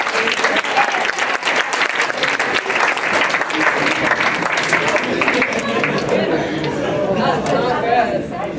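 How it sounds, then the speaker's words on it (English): Studio audience at a stage hypnosis show breaks into sustained applause, dense clapping filling the room steadily for several seconds with cheering and crowd chatter mixed in. "let's give him a round of applause too."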